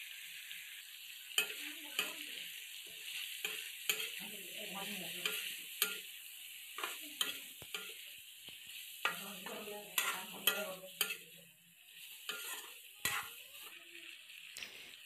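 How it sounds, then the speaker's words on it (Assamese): Onions fry with pork in a pan, a steady quiet sizzle broken by repeated scraping and clacking strokes as the mixture is stirred, with no talking. "এতিয়া মই পিঁয়াজখিনি দি দিছোঁ।"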